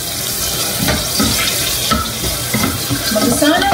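Garlic and onion fry in avocado oil with a steady, close sizzle, broken by scraping and stirring noises in a home kitchen.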